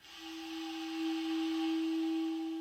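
A clarinet gives a quiet, steady undertone, a sustained note lower than intended because the air is too slow. It holds evenly for a few seconds with a slight breathy buzz.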